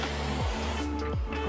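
A steady, loud hiss of spray from an aerosol can runs throughout, with a low mechanical whir sweeping underneath.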